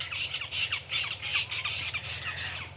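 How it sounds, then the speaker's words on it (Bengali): An owl calling outdoors at dusk, a busy series of rapid, harsh squawking and chattering calls that repeat steadily throughout at moderate loudness, with no talking. "ওইদিকে পেঁচা ডাকছে"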